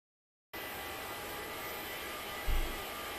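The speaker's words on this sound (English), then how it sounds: "Starting engine 2." Jet engine on an Airbus A318 spooling up at start in a flight simulator, a steady broadband whine and rumble that rises abruptly in the low end near the end, with no talking.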